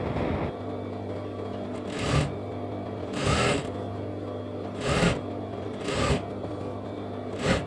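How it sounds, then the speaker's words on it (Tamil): A sewing machine stitches a lehenga lining in short bursts, a steady low motor hum broken by four brief louder whirring runs of stitching, close by with no talk. "இப்போ இதை அப்படியே மேலே வச்சு இன்னொரு தையல் ஒன்று அடிச்சிடுறேன்"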